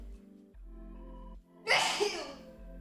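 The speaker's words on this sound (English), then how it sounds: "Ooh, I gotta sneeze." A single sharp sneeze close to the mic, after a quiet lead-in that holds a faint low hum and brief breathing.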